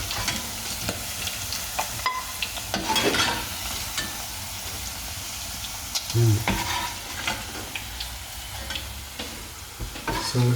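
Salt and pepper squid fries in hot oil with a continuous sizzle, broken by scattered sharp pops and stirring clatter, some louder than others.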